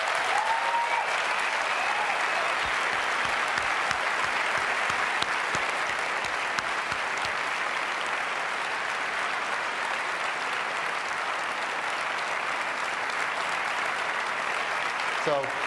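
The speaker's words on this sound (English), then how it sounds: "So please help me give them a round of applause." Keynote audience at Apple's 2009 WWDC in a large hall bursting into loud, sustained applause that rolls on steadily for about fifteen seconds, with scattered cheers mixed in.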